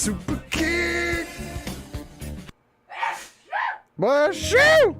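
A sneeze bursts out between stretches of voices and background music, a sharp explosive snort followed by a rising, strained vocal sound, close and loud.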